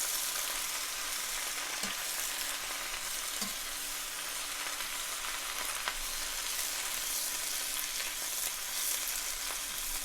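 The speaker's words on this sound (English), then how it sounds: "let's go ahead and add in the snow peas and the broccoli greens. Make sure we keep that moving around." Snow peas and broccoli greens stir-fry in a hot pan for a shrimp stir fry, a loud, steady hiss and sizzle close by, with a few faint knocks from stirring and no talking.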